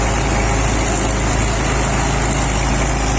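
A combine harvester engine, likely an Isuzu, runs steadily at close range, a loud continuous mechanical drone that holds without a break and with no voices over it.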